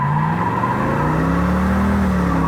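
A 1968 Pontiac Firebird 400 convertible with H/O and Ram Air components revs up, its V8 engine rising and falling in a loud, close, steady drone with no voices.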